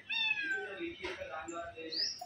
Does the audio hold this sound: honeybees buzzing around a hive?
no